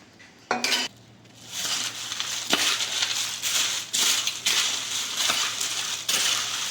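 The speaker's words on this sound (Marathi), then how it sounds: "अशा पद्धतीने आपण मिक्स करून घेऊया" Roasted peanuts, cashews, coconut slices, roasted gram and raisins are stirred into fried corn-flake chivda, giving a clatter of dry pieces and a spoon knocking against a metal dish, with several sharp clinks in between.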